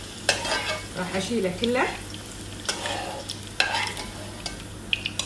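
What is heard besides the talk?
onions caramelizing in a frying pan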